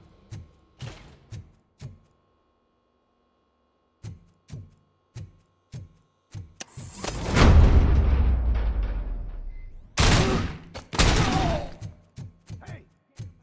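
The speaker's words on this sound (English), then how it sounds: "Hey, am I hearing gunshots?" Sharp gunfire bursts crack out in a game soundscape, scattered single shots then a long loud roaring blast, followed by more rapid shots.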